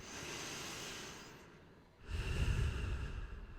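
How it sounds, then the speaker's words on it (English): One long breath during a breathwork exercise, starting as a drawn-out airy inhale and ending in a heavier, louder rushing exhale close to the microphone. "you take your final breath"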